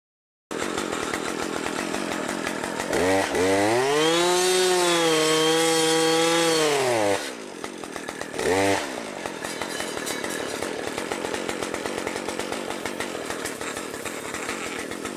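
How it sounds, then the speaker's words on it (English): A gas-powered clearing saw thinning trees in a woodlot runs throughout, a buzzing two-stroke drone that rises sharply into a high whine as it revs and cuts, drops back to idle, then surges briefly again. "I'm using a gas-powered clearing saw,"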